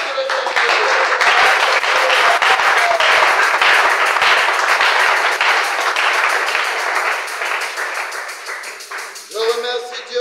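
A church congregation applauding, a dense, loud, sustained wash of clapping that holds steady and then thins and fades near the end, with a few scattered claps and a voice coming in at the close.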